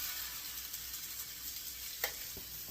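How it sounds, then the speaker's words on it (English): Sausage browns in a pan with a soft, even hiss of frying, fairly quiet, with one brief clink of a utensil near the end. "We're going to go ahead and brown up our sausage."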